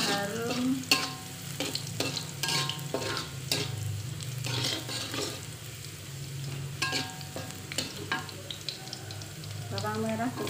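Eggplant sautéing in a frying pan for a spicy tumis, with steady close sizzling and repeated sharp scrapes and clacks of a spatula stirring the pieces; no one speaks.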